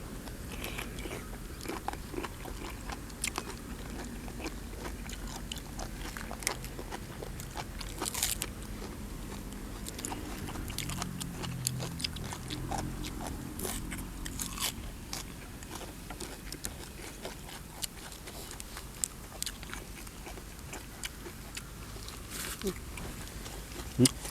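Crispy fried large squid tentacles served with a spicy dipping sauce are bitten and chewed outdoors beside a waterfall garden in cold wind, giving repeated close crunches over about twenty seconds while people talk.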